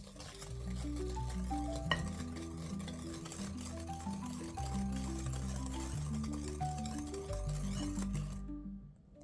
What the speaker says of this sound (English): I added the first portion to the egg yolks and mix until slightly pale